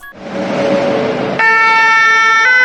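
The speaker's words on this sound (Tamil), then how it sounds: "ஆம்புலன்ஸ்" A loud ambulance siren starts up with a rising wail, then shifts into a steady, piercing two-tone blare, close by and sounding alone.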